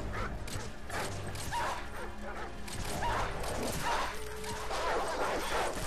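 Attack dogs bark, yip and snarl repeatedly amid crashing impacts and game noise in Call of Duty 4, with a dense, continuous din and a short whimper.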